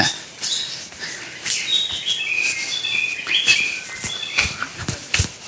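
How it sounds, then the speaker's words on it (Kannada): Several birds chirp and whistle with repeated short calls, some near and loud, others fainter, over quiet forest ambience near Joida in the Dandeli area. "ಪಕ್ಷಿಗಳ ಸೌಂಡು"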